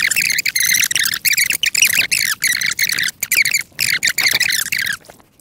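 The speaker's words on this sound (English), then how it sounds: "There's a musk duck right there." A run of sharp, high squawking calls from a musk duck at a lake repeats in quick bursts with brief gaps, loud and close, followed by a short pause near the end.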